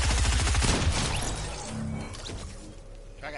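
Rapid burst of gunfire in Fortnite striking the player, a dense loud volley up front that thins into a crash and decaying clatter.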